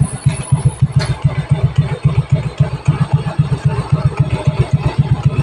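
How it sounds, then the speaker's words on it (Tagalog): A Yamaha Mio i 125 scooter engine idling smoothly up close after a tune-up, with a steady, even thumping pulse and nothing else around it. "Wala pong kaingay-ingay yung makina."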